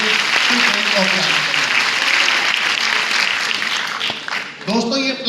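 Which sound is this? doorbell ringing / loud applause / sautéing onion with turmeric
loud applause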